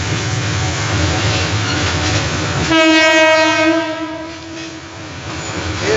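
A train passes on a railway line: close, loud rumbling wheel noise, then a sustained tonal horn blast that fades out gradually.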